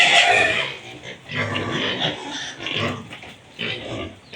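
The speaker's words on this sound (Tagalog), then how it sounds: "Ang ingay na ng baboy guys. Pasensya nyo na yung ingay ng baboy." Several hungry pigs, including a sow, grunt and squeal loudly and repeatedly at close range, with no talking.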